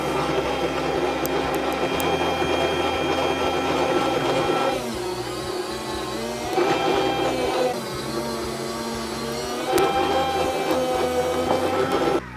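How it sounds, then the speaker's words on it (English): A Vevor meat slicer cuts cheese at about an 8 millimetre thickness, its motor giving a steady loud whir with a few shifts in pitch as the blade passes through the block, with no talking. "So next I'm going to slice the cheese."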